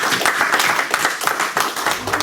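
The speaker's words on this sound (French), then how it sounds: "On va encore applaudir notre conférencière Nathalie Genero-Fiac." An audience applauds a lecturer at a foundation talk, a dense, lively round of clapping that carries on steadily without pause.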